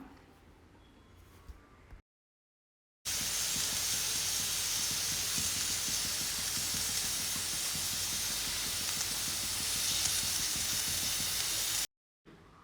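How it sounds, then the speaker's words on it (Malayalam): A pressure cooker on a gas stove hisses with escaping steam, a loud, steady, high rush that holds for about nine seconds before cutting off, with no talking over it. "ഇതിൻ്റെ പ്രഷറൊക്കെ നന്നായിട്ട് വിസിലടിക്കാൻ നോക്കുന്നുണ്ട്"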